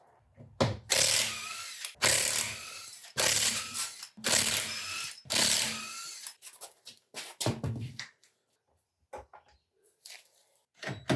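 An impact-style power tool removing the wheels from a BMW E46, four loud buzzing bursts of about a second each in a row near the mic, followed by quieter clatter and scattered clicks.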